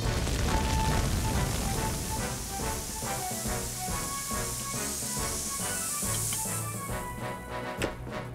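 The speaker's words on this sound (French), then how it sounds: "Oh, une pluie tropicale." Cartoon tropical rain spraying water onto a mountain fire started by sparks on dry grass, a steady loud hissing wash of spray with music over it throughout.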